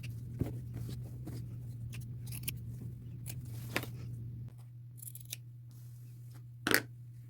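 Scissors snip through denim squares cut from the leg of an old pair of jeans, a steady series of short crisp cuts over a low constant hum, close and fairly quiet, with a louder final snip near the end.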